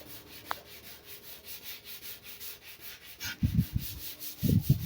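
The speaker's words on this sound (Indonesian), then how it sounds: "mengamplasnya terlebih dahulu supaya daya lekat dempul dan bodi yang lama bisa menyatu." Steady rhythmic back-and-forth scraping of sandpaper on old body filler on a Toyota Innova car body, close and fairly quiet, with some heavier rubbing strokes toward the end.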